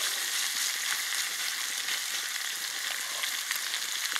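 Pieces of channel catfish fry in hot oil over a campfire, making a dense, even sizzle heard up close and unbroken for the whole stretch, with no voices.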